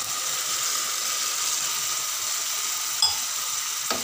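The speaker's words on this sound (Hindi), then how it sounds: "और इसे अच्छी तरीके से मिक्स करेंगे" Kheema kaleji (minced meat and liver) simmers after a glass of water is added, outdoors in the woods, with a soft steady sizzle and a couple of brief scraping clicks from the stirring spoon.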